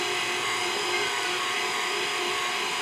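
A stand mixer kneads hamburger bun dough with a steady, whirring motor drone that stays even and fairly quiet throughout, with no voices over it.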